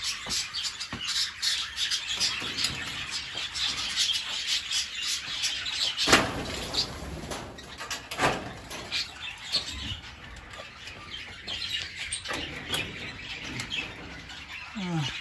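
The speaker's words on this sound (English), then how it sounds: "You may hear some pigeons, as I've got a few pigeons" Budgies chirp and squawk busily in a backyard aviary with pigeons, with bursts of wing flapping and scratchy rustles, close and continuous throughout.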